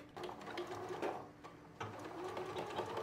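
A sewing machine stitches the waistband of a pair of shorts, giving a steady, close mechanical whir with a slight rhythmic pulse that runs without a break and with no talking.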